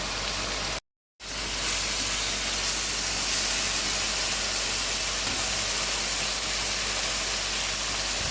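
Prawns being sautéed in a pan give a constant broad sizzling hiss, fairly loud and even, with one short silent gap near the start.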